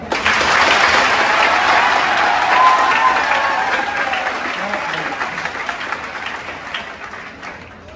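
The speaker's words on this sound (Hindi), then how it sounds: "तालियां जोरदार बजाओ" Crowd at a Hindi-language meeting on the CET exam with an MLA breaks into loud, vigorous applause that swells early, then gradually thins and fades over several seconds, with a few voices mixed in.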